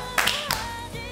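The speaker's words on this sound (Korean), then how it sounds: "자, 큰 마음을 따서 큰 박수 한번 시작!" Restaurant staff in a kitchen clapping on cue: two quick, sharp bursts of group clapping close together amid background music and room noise.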